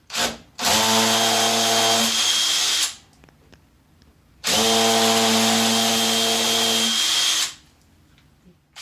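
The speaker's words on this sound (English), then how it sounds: "now I'm going to drill the 2 holes that I'm going to use for the plugs" A power drill whines through two sustained bursts of a few seconds each drilling holes in a wall for plugs, separated by a short pause, close and loud.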